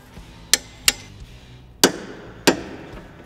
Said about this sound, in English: now we'll torque all three brand new bolts to 47 foot-pounds